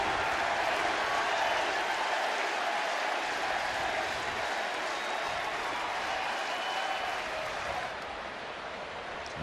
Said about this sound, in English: Crowd buzzing after the grand slam by Ramirez.